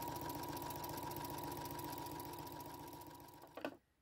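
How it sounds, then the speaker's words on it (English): A sewing machine runs a straight stitch through stretch velvet in a steady, fast mechanical whir, close and even, then stops abruptly near the end with a brief clunk. "And now I can sew on a straight stitch."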